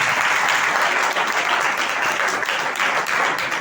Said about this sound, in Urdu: آپ اپنے لیے ایک زوردار تالی بجا سکتے ہیں۔